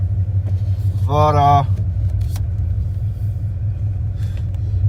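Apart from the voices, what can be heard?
1995 Dodge Ram 5.9L V8 truck driving on highway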